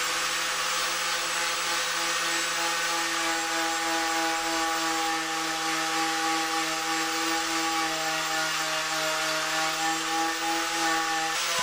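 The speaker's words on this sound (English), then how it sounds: "a delicate approach with the wire wheel on the grinder was actually better" Angle grinder fitted with a wire wheel stripping rust from the body of a Daihatsu Charade under restoration, a continuous loud, steady whine and harsh brushing hiss held at a constant pitch for the whole stretch.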